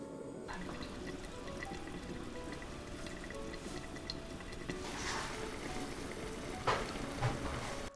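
Kimchi stew with meat simmers in a pot, giving a continuous soft bubbling and hissing at moderate level, with a few faint clinks late on and no voices.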